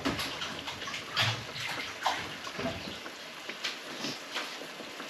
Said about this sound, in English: Rinse my hands down a little bit.